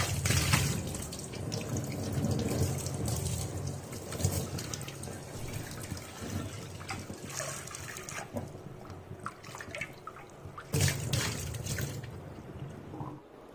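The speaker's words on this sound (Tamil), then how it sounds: "நல்லா ஸ்க்ரப்பர் வச்சு தேய்ச்சிட்டு கழுவி எடுத்துக்கலாம்." Clay pots are scrubbed and rinsed under running water, giving continuous splashing and trickling with scraping rubs and a couple of louder gushes, fairly close.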